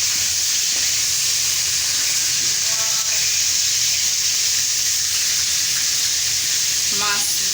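Fish coated in turmeric and chili sizzles steadily in hot oil, a dense continuous crackle throughout, with a few faint clinks and a brief clatter near the end.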